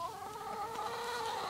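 Hens in a backyard flock give soft, faint clucks, a brief murmur of bird calls at a distance with no talking.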